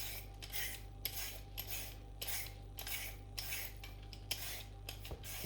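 Carrots being peeled for a roast chicken dinner in a home kitchen, a steady run of rhythmic scraping strokes with light metallic clicks, close and fairly quiet against a low steady background hum, with no voices.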